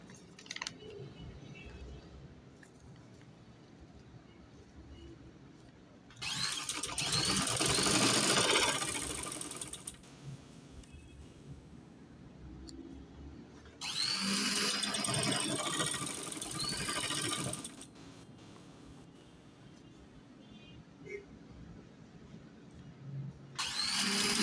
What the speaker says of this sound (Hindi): इस तरीके से मैं दामन पर इसको सेट करके पूरी सिलाई कंप्लीट करती हूँ।